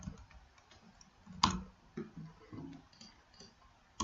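Keyboard typing on a computer comes as a few sparse, soft clicks with one sharper keystroke near the middle, quiet and close, with no talk.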